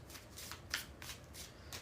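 Tarot cards riffle and shuffle in quick repeated bursts, a crisp papery flutter close to the microphone with a sharper snap partway through.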